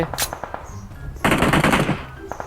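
Rapid automatic gunfire from a PUBG Mobile match on the Nusa map, a loud dense burst of shots in the middle with scattered single shots before and after, close and dominant.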